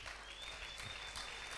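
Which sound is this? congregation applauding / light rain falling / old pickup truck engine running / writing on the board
congregation applauding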